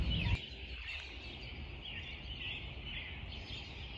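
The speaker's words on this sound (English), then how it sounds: "Just listen to all those birds." Many birds call outdoors in a garden in spring, a steady chorus of fairly distant chirps and calls blending together, with a brief louder thump at the start and no talk.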